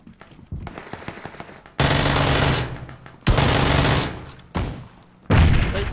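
Automatic gunfire in PUBG: faint distant rattling at first, then long, loud bursts of rapid rifle fire, broken by short pauses, ringing out close by.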